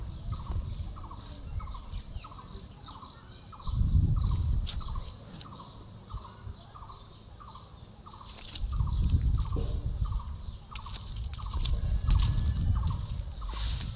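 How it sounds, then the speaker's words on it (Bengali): In a quiet rural village in Hijla, Barisal, Bangladesh, a bird repeats a steady, evenly spaced call throughout. Low rumbling bursts of wind or handling noise rise and fall beneath it. "কিছু কিছু পাখি বা কাঠবিড়ালির ডাক শোনা যায়"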